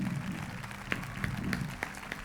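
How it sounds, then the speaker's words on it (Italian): Audience applause for Andrea at a public gathering, a soft continuous patter of many hands clapping, with a few sharper individual claps cutting through now and then. "Un applauso fortissimo per Andrea"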